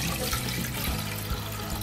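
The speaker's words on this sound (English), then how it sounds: "you have to pour the cold water into the pot." Cold water is poured into a cooking pot on the stove for chicken pot pie, a short, steady, close rushing stream without a break.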